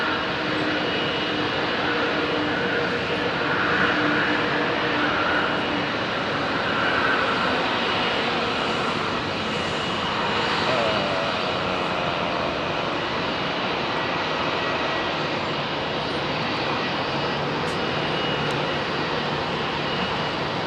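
An airliner departs runway 27R at London Heathrow, its engines a steady, loud broadband roar that holds evenly throughout with no voices.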